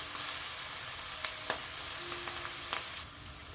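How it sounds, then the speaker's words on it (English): Onions fry in a pot as the base for Swahili mutton pilau rice, giving a steady, soft sizzle throughout with a few faint clicks and taps near the end. "my onions are now cooking nicely"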